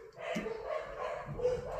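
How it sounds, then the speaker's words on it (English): Several dogs bark and yip as the mailman arrives, a continuous burst of fairly close barking running throughout the short clip. "Don't mind my dogs."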